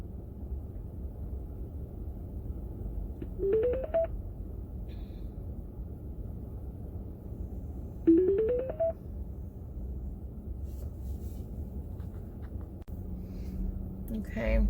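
Telephone dialing tones during a phone call: two short runs of rising electronic tones several seconds apart, faint over a low steady background rumble.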